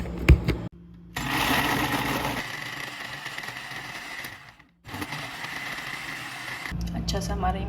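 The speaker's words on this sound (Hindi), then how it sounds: "हम पहले इसको अच्छे से ब्लेंड कर लेते हैं।" A blender whirs through chikoo, dates, almonds, jaggery powder and milk for a milkshake in two long, loud, steady motor runs, with a short pause between them and brief stops at the start and end.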